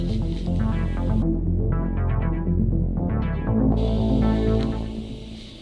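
A Kawasaki Z400 400cc twin-cylinder motorcycle revs and changes pitch while being ridden, its loud harmonic engine drone rising and falling with throttle changes, heavy wind noise cutting in and out.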